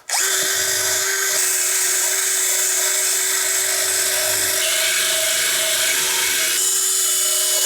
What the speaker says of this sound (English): I'm going to use the wire brush when I'm cleaning the edge of the cover